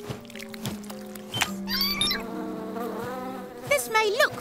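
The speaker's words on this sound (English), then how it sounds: "flapping our wings is how we make thicker honey. It's a bee thing." Cartoon bees flap their wings with a steady low buzzing drone, mixed with bright sliding tonal effects and chirpy cartoon sounds that rise and fall over a few seconds.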